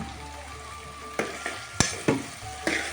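Bitter gourd pieces fry in a pan while being stirred, with a soft sizzle broken by several sharp clanks and scrapes of a spatula against the pan.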